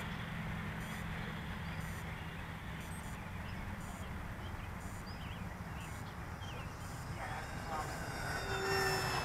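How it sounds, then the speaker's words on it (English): An FMS CJ-6 model airplane on one of its first flights drones steadily overhead for the whole stretch, its engine tone holding even and growing slightly louder near the end. "This is actually only the second flight of the aircraft."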